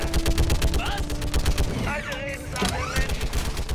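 Rapid automatic gunfire from a weapon in Mass Effect 3, loud bursts of closely spaced shots with brief pauses, heard under someone talking.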